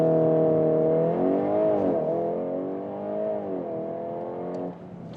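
A VW Golf R Black Edition launches under launch control, its engine note climbing loudly through the revs with a brief dip as it shifts, then rising again before easing off.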